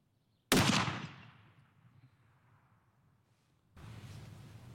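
A single sharp shot from a Bergara Wilderness Ridge Carbon rifle in .308 Win, a loud crack trailing off into a long fading echo, then a wash of outdoor background noise.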